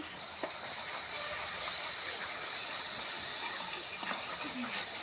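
Ginger-garlic masala paste frying in a pan gives off a steady, bright sizzle that holds evenly throughout at close range, with a few faint clicks and pops within the hiss.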